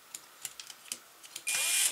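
Small drill bit boring into a plastic servo gear with very light pressure, heard close up as a series of quick ticking clicks before the bit whirs steadily for a brief final stretch.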